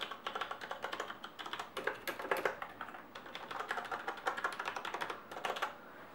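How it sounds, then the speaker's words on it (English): Steady typing on a Corsair K60 mechanical gaming keyboard with tactile keys, a quick, uneven run of close, crisp key clacks in bursts, heard alone at a moderate level. "I love the tactile feedback on the keys, so you got this sound going on."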